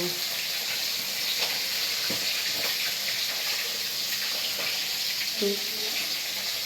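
Fish frying in a pan, a dense continuous sizzle with faint clicks and scrapes scattered throughout at a steady level.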